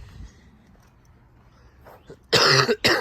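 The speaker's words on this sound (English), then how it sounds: "Sorry, I had this cough." Two sharp, loud coughs near the end, close by, after a few seconds of near quiet.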